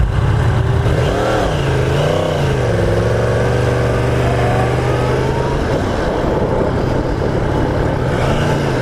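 A 2015 Yamaha R1M sport bike engine revs and rises in pitch, then holds a steady, loud mid-range drone before easing off, close by and with no talk over it.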